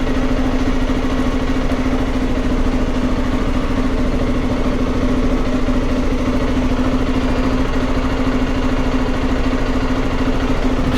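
A motorcycle engine idles in a multi-storey parking garage in Ljubljana, a loud, close, continuous drone with a steady low hum and no break for the whole stretch.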